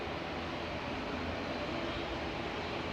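SAS flight 540 airliner touching down during an emergency landing at Manchester Airport, a steady dense broadband engine and airframe roar that holds at even loudness throughout, heard from some distance.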